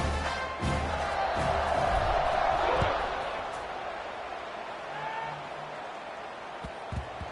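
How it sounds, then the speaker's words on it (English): Football stadium crowd before a kickoff against UTEP, a broad roar of cheering that swells over the first few seconds and then settles into a steady, distant murmur, with a few sharp thuds near the end. "this crowd is feeling themselves after that last drive"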